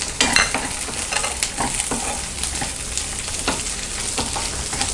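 Ivy gourd and tamarind sauté in a pan for an Andhra-style thogayal, giving a steady crackling sizzle broken by repeated scraping stirs close by.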